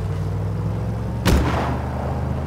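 A single sharp gunshot rings out in the Just Cause 3 video game, cutting briefly through a steady low engine drone.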